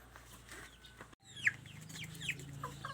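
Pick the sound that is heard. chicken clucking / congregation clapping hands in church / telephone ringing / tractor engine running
chicken clucking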